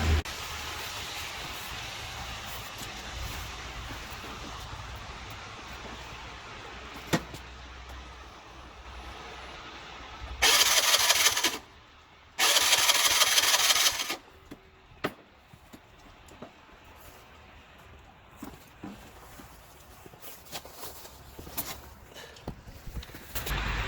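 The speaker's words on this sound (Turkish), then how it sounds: "Motor çalışmıyor. Marş basıyor ama çalışmıyor." A scooter engine cranks on its electric starter without catching, two loud sustained bursts of grinding starter noise standing out over quiet outdoor background.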